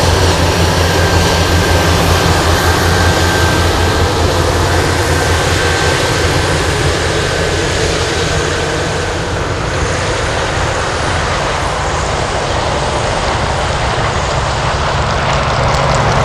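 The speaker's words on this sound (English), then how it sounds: "Making all that sound, we have an Ace 1900" Steady, loud engine roar from a Beechcraft 1900 turboprop at Anchorage airport, a continuous broadband rush with a faint high whine, heard alone without talk.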